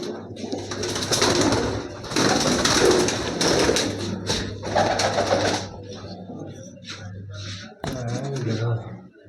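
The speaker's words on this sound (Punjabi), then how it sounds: "ਦੇਖੋ ਮਿੱਤਰੋ ਕਬੂਤਰ" Pigeons coo in low, repeated bursts close by, broken by tapping and rubbing sounds, while people talk over them at times.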